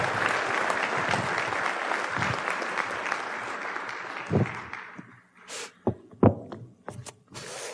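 Applause from a church audience welcoming a guest speaker to the stage, dense sustained clapping for about five seconds that thins into a few scattered claps.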